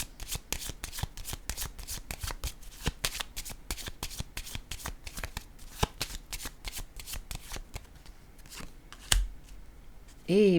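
Playing cards are shuffled and handled close up during a card game, with quick riffling bursts and sharp snapping flicks repeating over several seconds, followed by a couple of isolated taps near the end.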